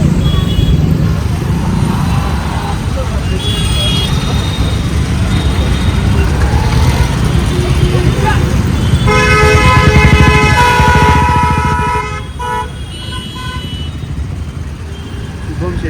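Busy road noise with engines rumbling throughout, and several car horns honking as wedding cars arrive, clustering in a long loud stretch of overlapping toots before easing off.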